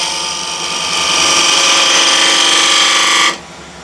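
A wood lathe spins as a turning gouge cuts beads into the workpiece, giving a steady, loud whirring cut with strong harmonic tones. It holds for about three seconds, then drops off abruptly as the tool lifts away.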